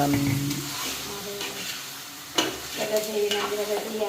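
Food sautéing in a pan in a home kitchen gives a steady low sizzle with occasional stirring scrapes and clatters, fairly quiet and close.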